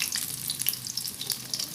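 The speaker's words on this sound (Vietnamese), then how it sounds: "Các bạn chiên thì các bạn để lửa cho nó vừa vừa thôi nha." Vegan honey-glazed ribs frying in hot oil over a moderate flame, giving a steady, close crackling sizzle with scattered bright pops throughout.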